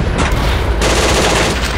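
Tank gunfire in the World War II combat game Steel Fury: Kharkov 1942, a loud continuous roar of shots and rumbling blasts filling the moment with dense, sustained noise.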